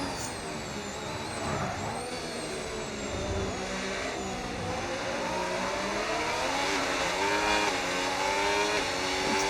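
Race car engines whine and rev steadily throughout in an F1 racing video game, with several cars' engine tones rising and falling together in a continuous, loud, dense drone and no speech.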